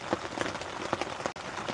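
Steady rain patters on a tent at a motorcycle campsite, a dense, even hiss with scattered louder drops and a brief dip near the end.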